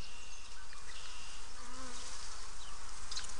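Honeybees in an open beehive during an inspection buzz as a dense, steady close drone with no voices, one bee passing louder partway through.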